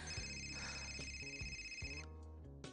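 In Fahrenheit: Indigo Prophecy a phone rings with a sustained high electronic tone for about two seconds, quiet and layered over a low rhythmic music bed with soft thuds, then stops.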